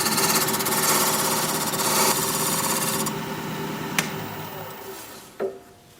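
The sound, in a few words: wood lathe smoothing bottom of wooden cup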